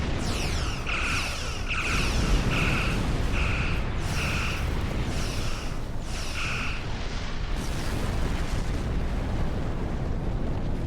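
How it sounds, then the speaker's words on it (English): Torpedoes fire in a burst of repeated pulses during Star Trek Online space combat, several evenly spaced shots over a constant, loud rumble of explosions and battle noise, with no talking. "Fire the torpedoes!"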